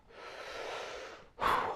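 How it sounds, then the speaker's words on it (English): Heavy deep breathing after a set of biceps curls in a back-and-biceps workout: a long, close, airy breath followed by a sharper, louder exhale, with no talking. "Deep breathing."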